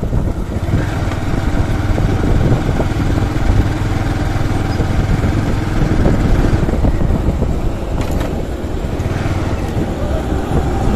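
A motorcycle engine running steadily as the rider moves through the gears on a road, loud and close with small shifts in pitch, plus brief wind and rattle noises.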